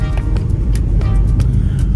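A car drives on the road on a journey to Seaton, Devon, its loud, close engine and road rumble steady throughout, with a few soft knocks over the top.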